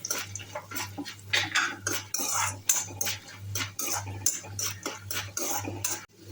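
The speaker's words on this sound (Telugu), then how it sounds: "పల్లీలు సగం వేగిన తర్వాత పప్పులు వేసుకొని పప్పులను కూడా బాగా వేయించుకోండి" Peanuts and lentils are roasted in a pan and stirred continuously, giving a close, rhythmic run of spoon-on-metal scrapes and rattling over a steady low hum.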